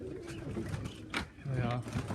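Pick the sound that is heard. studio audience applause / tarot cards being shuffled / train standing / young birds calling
young birds calling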